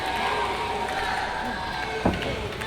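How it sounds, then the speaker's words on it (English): Wrestling crowd at an independent steel cage match event, a dense continuous roar of cheering and shouting throughout, with one brief thud near the end. "And listen to this crowd."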